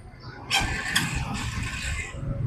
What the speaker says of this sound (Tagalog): Naka-on na yung makina.